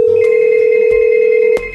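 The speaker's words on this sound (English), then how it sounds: "I'm calling the cell phone on my wheelchair, and it's ringing" A cell phone mounted on a wheelchair rings with a steady electronic tone, loud and close, holding for about a second and a half before cutting off abruptly.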